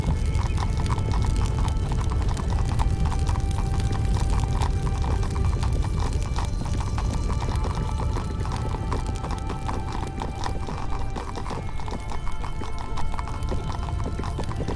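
Horses galloping in the medieval video game 1428: Shadows over Silesia, hooves clip-clopping in a dense, continuous drumming rhythm with an occasional whinny, loud and close throughout.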